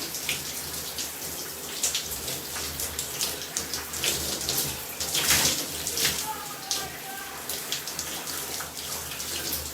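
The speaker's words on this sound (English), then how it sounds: "I just let the cold water run into my hair." Cold shower water runs steadily into hair, a continuous broad hiss and splatter with shifting spray and dripping textures throughout, fairly close and unbroken.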